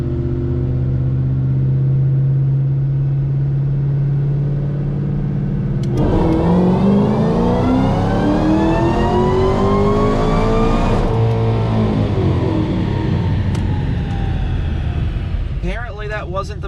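A supercharged 2012 Shelby GT500 with a twin-screw blower strains on a chassis dyno, idling loudly, then revving hard through a long rising pull with supercharger whine before dropping back, all close and loud.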